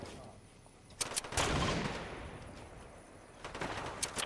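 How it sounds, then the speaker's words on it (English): Gunfire in Fortnite as players shoot at guards near a hut, a dense burst of overlapping shots at mid-distance, with scattered further cracks toward the end and faint voices in the background. "They're shooting the guards."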